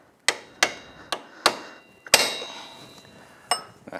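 Steel punch struck repeatedly with a hammer to knock out the upper ball joint on a 2007 Yamaha Grizzly 700 ATV; six or seven sharp metallic blows in an irregular rhythm, loud and close, with no talking.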